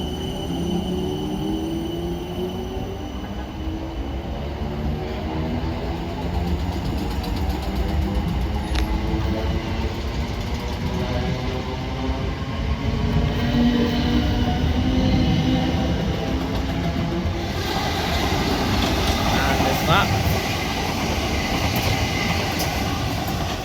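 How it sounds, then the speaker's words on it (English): An Alton to London Waterloo train service departs Raynes Park with a steady, loud rail rumble and rising whine that builds over some twenty seconds, with faint wheel squeal. "down there you can see a service from Alton to London Waterloo. As this service gets ready to depart now."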